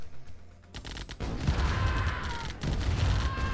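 Rapid, dense gunfire from units battling in the real-time strategy game Command & Conquer: Tiberian Dawn Remastered, with medium tanks and bikes on the Quarry map, sustained and loud with thumping bursts and no talk.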